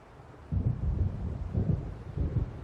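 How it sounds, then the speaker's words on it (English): Thunder of an approaching storm in the Alan Wake video game, low rolling rumbles rising in a few heavy surges over a windy background, fairly close and loud. "It seems there's a storm coming."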